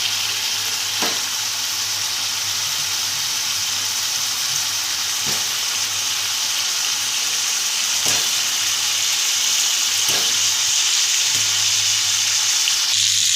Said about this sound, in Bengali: তেল ছেড়ে এসছে, এবার আমি একে একে আলুগুলো দিয়ে দেবো।